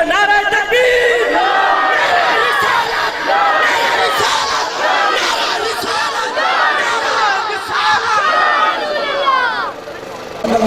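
A large crowd roars back a religious slogan in loud unison at an Urdu-speaking gathering, the massed shouting dense and sustained across the whole stretch, rising in waves before easing slightly at the end.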